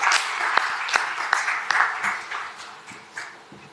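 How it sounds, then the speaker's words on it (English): Audience applause at a startup mobility challenge event, a burst of clapping with distinct sharp claps that gradually fades over a few seconds. "Can we have a round of applause, please?"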